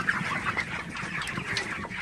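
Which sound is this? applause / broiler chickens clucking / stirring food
broiler chickens clucking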